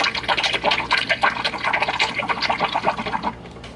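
Milk being frothed by a coffee machine's steam wand, a steady hissing, bubbling gurgle that holds close and fairly loud for several seconds before easing off near the end.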